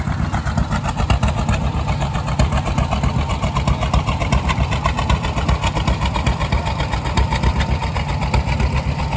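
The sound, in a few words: Allis-Chalmers WC tractor engine idling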